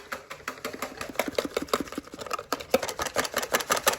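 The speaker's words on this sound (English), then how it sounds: "And then you whisk it." Banana pancake batter being whisked briskly, a rapid run of close, even clicks and taps of the whisk against the bowl, with no talking.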